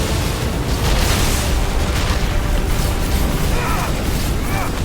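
A suicide bomb attack in the Final Fantasy XVI game sets off a dense, roaring explosion that keeps rumbling loudly for several seconds, with crackling debris throughout.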